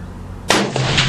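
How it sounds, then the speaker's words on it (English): A Browning A-Bolt .223 rifle fires a single 60-grain varmint home load outdoors, a sharp, loud crack that breaks sudden silence and rings out with a brief echoing tail. "she's gonna shoot the home loads. These are 60 grain varmint loads that I loaded."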